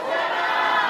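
A church congregation at a Palm Sunday meeting shouting together, a loud, dense burst of many voices that lasts about a second.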